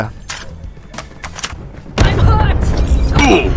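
Pistol fire in Call of Duty Mobile: a handful of sharp, separate shots, then a louder, denser stretch of rapid bangs and impact noise filling the last part.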